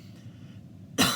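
A person gives a single sharp, loud cough after a stretch of quiet, heavy breathing, close up and alone.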